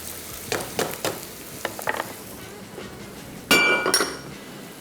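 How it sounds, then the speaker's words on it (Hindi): Onions frying in a pan while chicken cooks alongside: sizzling under intermittent scrapes and clinks of a utensil against metal, with a louder burst of clattering near the end. "प्याज भी करते जाएंगे फ्राई।"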